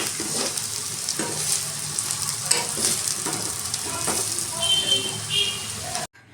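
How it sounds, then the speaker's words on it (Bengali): Potatoes fry in a pan at home with a dense, continuous sizzle and light stirring scrapes, close up, before cutting off abruptly near the end. "আর আলু ভাজা করছি"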